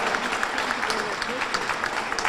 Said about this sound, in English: everybody to give a round of applause for our fabulous filmmakers and thank them for coming here